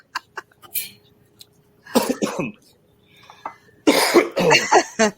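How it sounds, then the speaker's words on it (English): Several coughs come in bursts, a few short isolated ones early, then harsher clustered coughing near the end, close and fairly loud with no talk. "Now you got me coughing."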